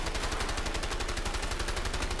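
Rapid automatic gunfire from the video game A Way Out, a dense continuous burst of shots at steady rhythm, loud and close, with no talking.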